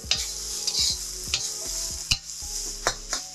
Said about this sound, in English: Add in our sausage, and now start stir frying.